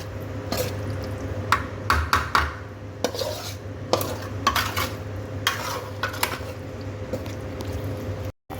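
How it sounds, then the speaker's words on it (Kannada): Tawa pulao rice is stirred and mixed in a pan with coriander leaves, a spoon scraping and clinking against the metal in irregular strokes over a faint sizzle, with no voices. "ಈ ಥರ ಎಲ್ಲ ಮಿಕ್ಸ್ ಮಾಡ್ಕೋಬೇಕು."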